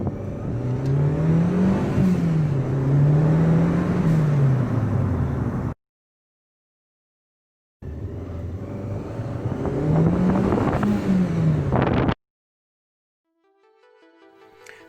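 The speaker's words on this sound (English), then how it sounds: "I'm going to do like a little demonstration of driving the car around with the stock intake" A Fiat Panda 100HP with its stock air intake drives on a road. The engine revs up and down in smooth rising and falling waves through two close passages separated by a silent gap.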